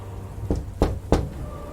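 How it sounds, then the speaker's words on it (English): Three distinct knocks on a door, spaced a bit under half a second apart, sharp and moderately close against a quiet background. "Calmly, it raised a hand and knocked."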